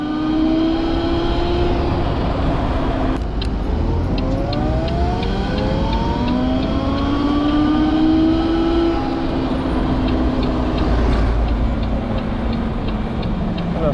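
Horwin CR6 retro electric motorcycle on a short ride, a whining motor tone that sweeps up and down in pitch as it accelerates, over steady road and wind noise with traffic around.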